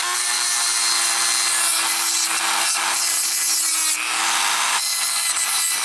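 Bear claw being lightly sanded at the tip on a polishing stone, a loud continuous gritty scraping with a steady motor hum underneath, broken by a few brief pauses.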